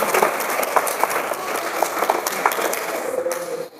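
A church congregation claps during a service. The applause is a dense, lively patter with a few sharper claps and faint voices mixed in, and it thins out near the end.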